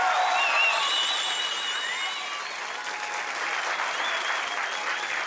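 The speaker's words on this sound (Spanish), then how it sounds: "regalarle un fuerte aplauso a nuestro Señor Jesucristo." A church congregation applauds loudly in a sustained, dense wash of clapping with crowd noise and whoops or whistles over it, especially in the first couple of seconds.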